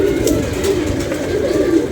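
Pigeons kept for pigeon flying coo at a loft on a sunny, very windy day, a close, steady run of low throaty coos filling the whole moment with no talk.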